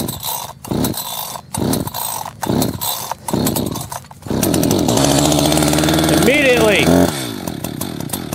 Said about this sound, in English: Pull the rope as many times until the saw starts.